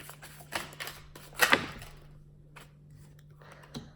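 Tarot cards are shuffled close up, with soft riffling and slapping bursts that peak in one sharper flurry, over a faint steady hum.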